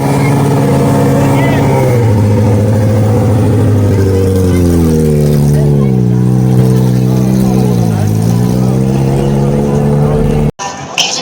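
A Dodge car does a burnout, its engine revving hard and steadily through gear changes in a loud, close, sustained roar that rises and falls in pitch. It cuts off sharply near the end, and voices are mixed in underneath.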